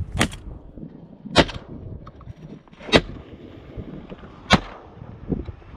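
Four sharp shotgun blasts ring out while duck hunting in California grasslands, spaced roughly a second and a half apart, each loud and abrupt with a short decaying tail over quiet outdoor background.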